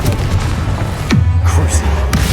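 A Confringo fire spell blast cast in the Hogwarts Legacy game, a loud booming impact followed by a deep low rumble, set amid busy combat noise and another later burst, with voices present.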